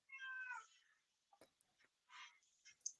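A cat gives a clear, drawn-out meow, followed by a few softer, shorter mews and small noises, fairly faint and alone in a quiet room.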